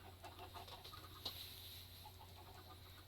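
Minecraft chickens clucking in a farm pen, faint and sparse over a steady low game hum, with one brief sharper cluck partway through.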